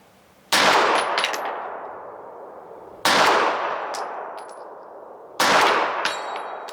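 Three FN509 pistol shots fired at a steel target around 100, each a sharp loud crack followed by a ringing metallic clang that slowly decays, spaced a few seconds apart.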